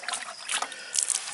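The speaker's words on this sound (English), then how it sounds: "wipe this down and keep dunking it in the water" A painted part for a Burning Bush pellet fire is dunked in water, giving close, soft splashes and trickles in two short bursts with a quiet gap between them.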